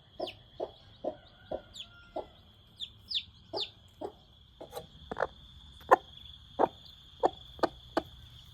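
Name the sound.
young chickens clucking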